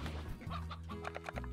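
A hen clucks in a farming video game, several short clucks over steady game music.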